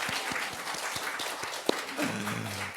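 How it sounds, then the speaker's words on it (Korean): A church congregation at Sunday worship claps for a churchgoer, a moderate, steady patter of hands with a few louder individual claps, and a voice or tone begins near the end. "우리가 박수 쳐드렸으면 좋겠어요"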